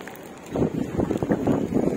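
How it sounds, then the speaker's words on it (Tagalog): Strong wind in Tagaytay buffets the microphone in heavy, rumbling gusts, with quiet background before the blasts begin about halfway through. "Ay, oo, malakas ang hangin."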